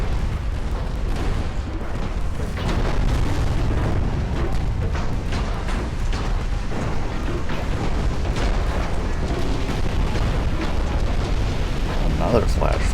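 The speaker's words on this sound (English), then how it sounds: "You can see all these ricochets and explosions." Continuous heavy rumbling booms and blasts from naval gunfire and shell explosions in the video game Ultimate Admiral: Dreadnoughts, dense and loud throughout, with a voice talking underneath.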